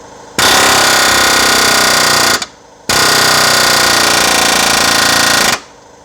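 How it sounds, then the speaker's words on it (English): A pneumatic air hammer pounds on the lower control arm of a 2011 Kia Forte 5 SX 2.4 in two loud, sustained rapid-fire bursts, each about two seconds long, with a short pause between them and no talking. "to get my air hammer to fit. So we'll see what happens."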